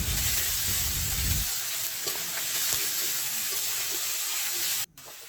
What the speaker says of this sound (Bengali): এখন এটাকে আমি ভালো করে ভেজে নিব